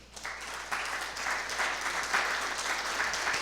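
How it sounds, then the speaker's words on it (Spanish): A church congregation breaks into applause of praise during a Spanish-language sermon, clapping rising quickly and holding steady as a dense, moderately loud patter from many hands. "Dele un aplauso de alabanza"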